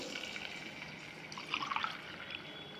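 Water being poured into a pot for ghee pongal makes a faint, soft splash and trickle, brief and close, with a slightly louder burst of pouring midway.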